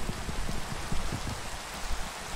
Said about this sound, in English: It's actually raining, dude.